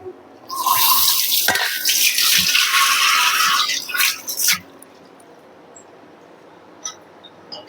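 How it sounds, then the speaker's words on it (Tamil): Water poured into a pan of quail gravy with ground coconut makes a steady, close rushing splash for about four seconds, then cuts off, leaving a quiet kitchen with a faint clink. "தேங்காய் ஊற்றி கொஞ்சம் தண்ணி ஊற்றிக்கலாம்"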